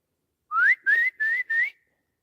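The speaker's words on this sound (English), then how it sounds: "I don't know if the whistle's going to do anything." Four short rising whistle blasts, loud and close, blown outdoors at night in the woods to stir up wildlife, with silence before and after.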